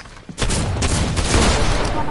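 Rapid bursts of gunfire from the Fortnite video game, a dense continuous fusillade of close, loud shots that runs almost without pause after a brief quiet start.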